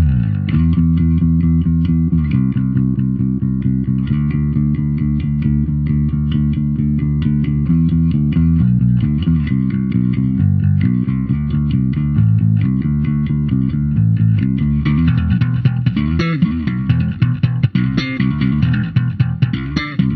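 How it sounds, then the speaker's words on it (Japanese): Real electric bass guitar recorded and processed through bass amp simulation, playing a steady groove of plucked notes throughout, with busier, punchier slaps toward the end; loud and alone. "生ベースの音はこんな感じになります。"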